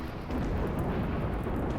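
Rain and rolling thunder in the game Rimworld, a steady dense wash of rainfall with low rumbling underneath, continuous and moderately loud, no voices.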